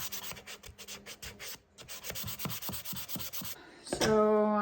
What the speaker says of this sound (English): I'm just onto the finishing sanding, finishing touches, just making it really nice and smooth.